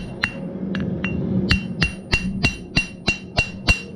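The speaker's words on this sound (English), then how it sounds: "I'm hammering it, pushing the material like you would with a piece of dough" A hammer forging hot metal to draw out material for tapered tongs, about a dozen sharp ringing strikes, slow and uneven at first and then settling into a steady, evenly spaced rhythm, close and clear.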